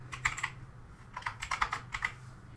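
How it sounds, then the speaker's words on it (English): Keys clack on a computer keyboard while text is typed into a Google Docs document, in quick irregular bursts of close, crisp clicks with short pauses, no voices. "Now let's try typing something."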